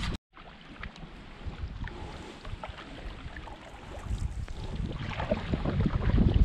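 Gusty wind buffets the microphone while a canoe is paddled into an oncoming storm system, a steady broadband roar that builds louder toward the end, with water and waves washing underneath and no talking.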